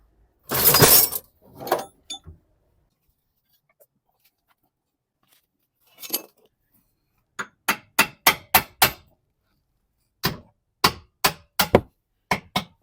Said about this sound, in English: I'm gonna tap this top of the bush in while I'm pushing on a bolt.